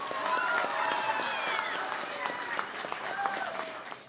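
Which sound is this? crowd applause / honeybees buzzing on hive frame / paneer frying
crowd applause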